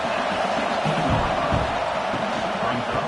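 Dense, steady roar of a football stadium crowd, loud and continuous throughout with broad cheering and no clear breaks.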